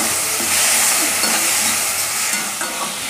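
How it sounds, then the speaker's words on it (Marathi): Tomatoes fry with onion in a pan, giving a loud, continuous sizzle and hiss close up, with stirring scrapes mixed in throughout. "आता यामध्ये मी हे टोमॅटो टाकणार आहे। टोमॅटो पण 1 मिनिटभर असा थोडासा भाजून घ्यायचा।"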